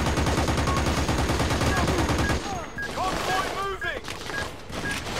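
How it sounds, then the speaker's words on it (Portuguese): Gunfire from the video game Battlefield 2: Modern Combat: rapid bursts of automatic fire rattle loudly for a couple of seconds, then sparser shots and game effects follow, with synthetic tones and whooshing sounds over them. "Tô tendo tiro aqui."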